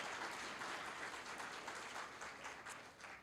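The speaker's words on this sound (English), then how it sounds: "So give a round of applause for yourselves." Sustained applause from an audience at a state invention competition awards ceremony, steady dense clapping filling the room at moderate loudness and tapering slightly near the end.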